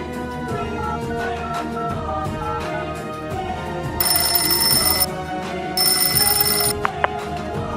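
A telephone ringtone rings loudly in two bursts against a dense musical background, with no voices over it.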